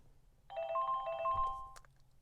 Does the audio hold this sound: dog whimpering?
no